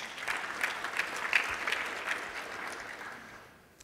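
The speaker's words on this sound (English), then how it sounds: "Or it's the first day and you haven't got bored of clapping yet." A conference audience gives a short round of applause, a dense patter of many hands clapping that swells briefly and then fades out toward the end, with no talking over it.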